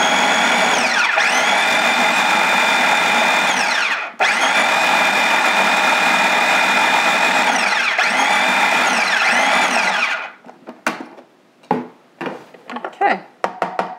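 A mini prep food processor pulses strawberries in three long, loud whirring bursts separated by short pauses, then gives way to several brief, uneven pulses and clatters.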